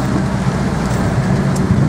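Rain falls on a road through hilly countryside, a dense, steady hiss over a low rumble, fairly loud and unbroken for the whole stretch, without voices.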